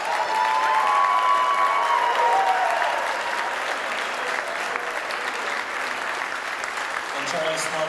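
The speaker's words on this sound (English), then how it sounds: "How about one more round of applause for Samuel from Alto Sax?" Audience applause at a high school jazz ensemble concert, a dense, steady wash of clapping with a few cheers throughout, fairly loud and continuous, with faint instrument tones near the start.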